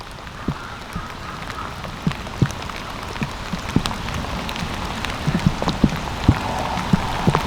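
Rain falling on a spring turkey hunt outdoors: steady patter with scattered louder drops tapping nearby surfaces, continuous and fairly close throughout.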